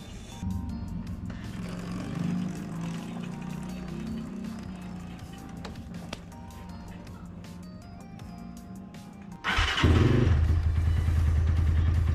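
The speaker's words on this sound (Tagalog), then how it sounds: "papainitin ko pala ng 3 to 5 minutes yung makina" A Kawasaki GPR 250 motorcycle engine idles steadily to warm up with a low, even rumble, then grows louder and fuller near the end as it keeps running close by.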